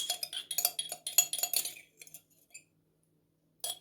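Metal utensil scraping thick cherry tree resin gel from a container, a quick series of close, bright clinks and scrapes, then a pause and a final short scrape.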